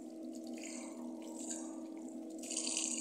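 Water running from a kitchen tap while waiting for it to turn hot, a steady soft stream with faint splashing and small shifts, fairly quiet and without talk.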